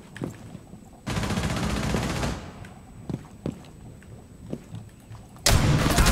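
Gunfire in Rainbow Six Siege: two long, loud bursts of automatic fire, one early and one at the end, with scattered single shots and impacts between them.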